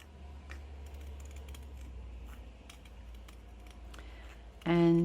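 Scissors snip through paper to cut out a piece of journal jewelry, making faint, quick, irregular clicks against a quiet hum, followed by a short louder tonal sound at the very end.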